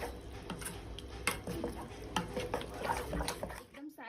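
Spices and sugar being stirred into corn handvo batter with a spoon in a bowl, soft scraping and clinking strokes close by, steady through the clip with a louder knock near the end.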